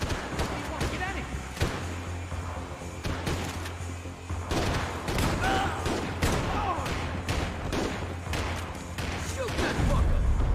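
Gunfire in Max Payne 3 pops in repeated sharp shots spread across the whole stretch, some close and punchy, under frequent shouting voices and a low background hum.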